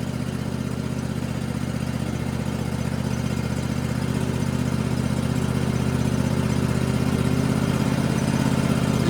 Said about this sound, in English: With it being fuel injected, there's no choke. You know, it just started up, does all the fuel itself.